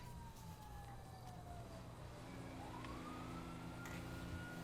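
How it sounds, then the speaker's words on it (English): Police sirens in GTA 5 wail and sweep upward as they approach, rising steadily in pitch and presence over a constant ambient drone with no talking. "I hear sirens."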